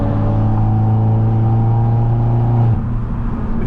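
Loud, continuous revving of a turbocharged, straight-piped Mercedes C250, steady engine roar with a slight drop in pitch near the end, heard from inside during a drive with no talking.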